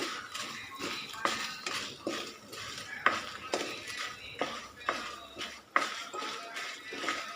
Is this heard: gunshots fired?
no